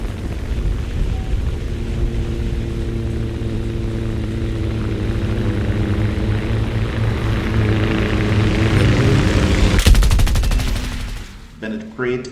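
Bombs released from a military aircraft in a flight combat video game, a loud sustained roar of engines and rolling explosions building over several seconds, ending in a sharp crackling burst before fading.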